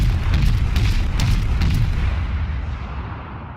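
A US Omaha tier 5 cruiser fires its guns in World of Warships, loud booming blasts with sharp cracks early on that fade into a long rolling rumble.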